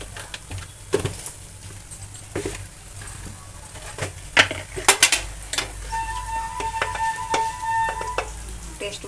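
Potato filling stirred with spices and salt in a pan, scraping strokes and clinks of a utensil against metal over a low sizzle, irregular and close.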